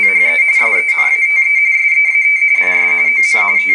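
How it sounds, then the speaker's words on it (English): Internet teletype broadcast played back on a laptop: a steady, loud two-tone electronic warble transmitting letters, continuous throughout, with someone talking over it at times. "the sound you are hearing is a teletype"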